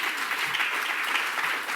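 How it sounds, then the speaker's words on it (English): A round of applause from a conference audience, dense and steady, with an even wash of many hands clapping throughout the short stretch and no voices over it. "you're going to have a nice round of applause"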